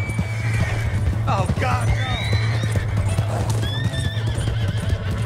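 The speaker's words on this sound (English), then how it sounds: "Hey, that's my horse." A horse in Red Dead Redemption 2 gallops with steady rapid hoofbeats while neighing and whinnying loudly several times, under a person's short exclamation.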